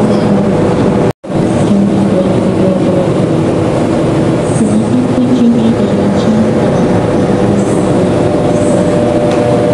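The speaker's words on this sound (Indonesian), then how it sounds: "Berhenti 10 menit di stasiun Madiun" The Ranggajati executive train sits stopped at Madiun station, its steady, loud, low mechanical hum droning on with one sharp momentary cutout near the start.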